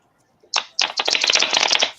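Cards are shuffled close up during a casual crafting session: a brief riffle, a short pause, then a longer run of rapid fluttering clicks, with no talk.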